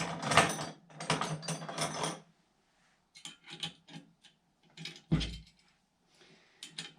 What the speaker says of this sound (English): they're just going to thread right in